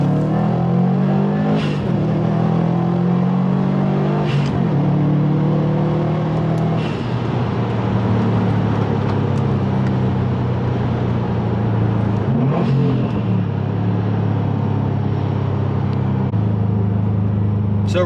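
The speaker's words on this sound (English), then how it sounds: "So we'll do a slight second gear pull here." A Stage 2 tuned 2019 Subaru WRX STI pulls in second gear from around 3,000 RPM, its turbocharged engine droning loud and close with rising revs, brief gear-change breaks and repeated climbs.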